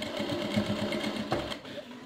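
A sewing machine stitches the waist of a dress in a quick, even run of rapid needle strokes, close and moderately quiet, pausing briefly before resuming.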